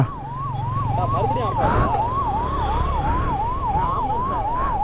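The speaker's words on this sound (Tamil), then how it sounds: "ஆம்புலன்ஸ்லாம் வேறு வருதுடா." An ambulance siren wails in a steady rising and falling cycle, loud and close as it passes along a street in Tamil Nadu, with traffic noise beneath.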